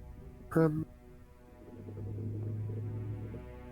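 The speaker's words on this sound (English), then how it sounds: "That's my air conditioner kicking on, if you could hear that." An air conditioner kicks on in a room, settling into a steady low droning hum that runs for a couple of seconds after a short vocal burst.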